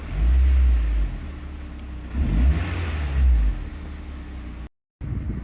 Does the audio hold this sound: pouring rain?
no